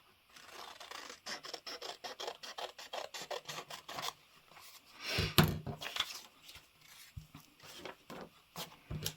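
Coffee-dyed paper tags are trimmed by hand, heard as a close, rapid series of rasping cuts followed by a louder rustle and a few scattered snips.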